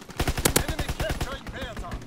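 Aircraft strafing run in a World War II shooter game: rapid machine-gun bursts in a tight rhythmic stream, sharp and fairly close, with a brief tonal whine mid-way and a second burst run at the end.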